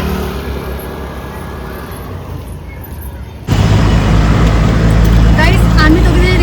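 An auto rickshaw rides through road traffic, a constant close engine drone and road rumble that grows abruptly louder partway through, with people talking over it.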